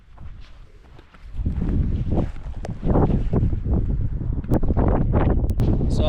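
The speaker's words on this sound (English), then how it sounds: "There's only so much wind a man can take on his forehead." Strong wind buffeting a microphone outdoors on the North Yorkshire Moors, a loud, rumbling roar that swells and gusts continuously throughout.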